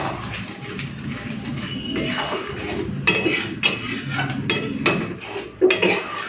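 A utensil stirs garam masala into mushroom curry in a metal pan, with repeated clanking scrapes and knocks that grow sharper and more frequent partway through, heard close up.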